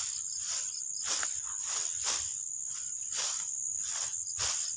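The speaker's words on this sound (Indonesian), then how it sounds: "Ini nampaknya ada belalang, ini banyak banget sekarang." Grasshoppers chirp in a rice field, a steady buzzing chorus that swells in regular pulses about once per second, with no voices.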